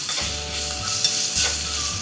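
Spices tempering in hot oil for soft curd vadas, a steady crackling sizzle with stirring scrapes, close and continuous throughout, no voices.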